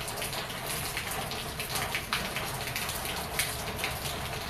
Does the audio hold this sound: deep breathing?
no